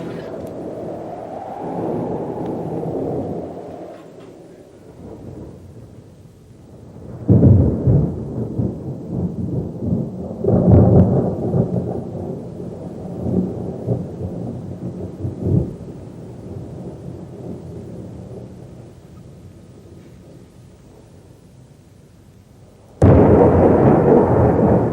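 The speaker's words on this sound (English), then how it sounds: "Oh, no, not another storm." A thunderstorm with gale and rain, set in a 1970s television drama: heavy rolls of thunder rise and fade over a steady rainy rumble, with a sharp loud crack bursting in near the end.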